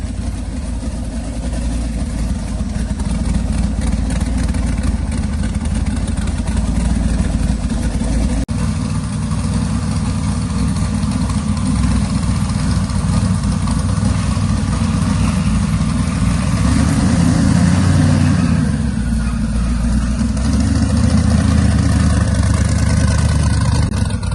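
An LS-swapped Willys Jeep, just started, idles with a steady, loud rumble close by, its low throb running unbroken for the whole stretch with small shifts in tone.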